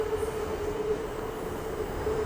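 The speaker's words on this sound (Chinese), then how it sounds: "所以说这边轻轨来来往往还是挺多的" Light rail train passing on an elevated line in central Bangkok, a steady rumbling roll with a faint wheel squeal, close and continuous throughout with no talk.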